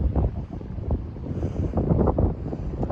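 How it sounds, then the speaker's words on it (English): Strong wind buffeting the microphone at an overcast seaside overlook, a steady low rumble with gusting surges throughout and no talk. "It's windy out here, though."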